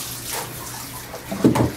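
Running water from a bathtub tap splashes over a dog during a rinse, a short close gush that swells louder toward the end.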